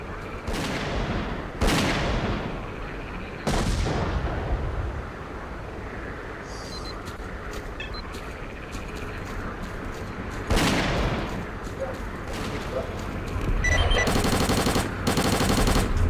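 Loud bursts of automatic gunfire from S.T.A.L.K.E.R.: Clear Sky, several sharp volleys spaced out over steady game ambience, ending in a dense rapid fusillade.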